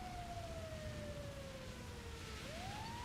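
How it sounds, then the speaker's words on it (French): Fire truck siren in the GTA 5 Online video game, a single wailing tone sliding slowly downward then rising again, faint and distant over a steady background hiss, with no talking. "on va éteindre les sirènes quand même parce que ça nous pète les oreilles pour rien"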